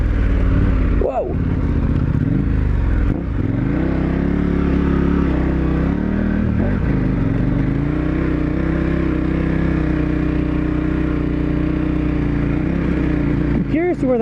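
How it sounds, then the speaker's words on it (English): Dual sport motorcycle on Mitas E10 Dakar tires churning through a deep sand wash, its engine droning loud and steady with revving surges, plus wind and clatter throughout. "down into the wash we go on the Mitas E10 Dakar tires."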